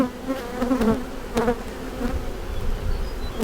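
Honey bees swarm around an opened beehive, a steady close-up buzz with individual bees droning louder as they pass near, continuous throughout.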